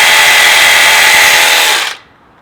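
A Stihl battery hedge trimmer on its slowest setting runs with a steady, loud motor whine and blade buzz close by, then cuts off abruptly near the end, leaving quiet.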